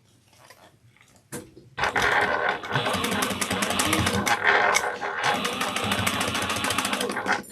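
A sewing machine stitches rapidly, basting the lining of a sling bag, with a close mechanical whirring and rattling that starts after a brief clunk and runs continuously with short pauses.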